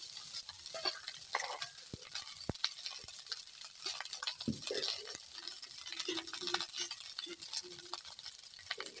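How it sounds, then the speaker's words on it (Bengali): Fried rice with mixed vegetables is stirred gently in a hot pan, giving steady sizzling with soft scraping and light clinks from the spoon, continuous and close throughout. "ভাতটা খুব সাবধানে নাড়তে হবে, যাতে ভাতগুলো ভেঙে না যায়।"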